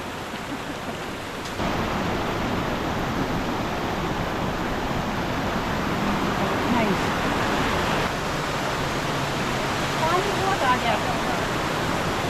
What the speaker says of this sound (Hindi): लाइडा वाटरफॉल एक छोटा सा क्यूट सा हिडन वाटरफॉल है